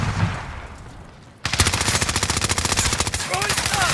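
Rapid automatic gunfire in a shooter video game erupts after a quieter stretch, a dense, loud burst of evenly spaced shots rattling on continuously, with a voice speaking briefly.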